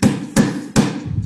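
Three sharp, evenly spaced strikes of a hammer on a cimbalom, each a bright percussive hit with a short ringing decay, close and loud with no talking.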